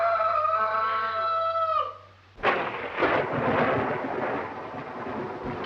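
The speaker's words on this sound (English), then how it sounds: "Storm's just as bad as ever, isn't it?" A loud thunderclap cracks and rumbles during a storm in a 1932 film scene, arriving abruptly after a crowing rooster and rolling on as a long, broad roar.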